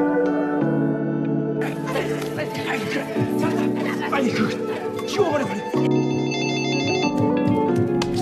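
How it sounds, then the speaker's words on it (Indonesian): Home telephone ringing in a repeating electronic pattern with clear pauses, heard beneath music and a voice speaking throughout. "Setelah berhasil merebutnya, telepon rumahnya berdering."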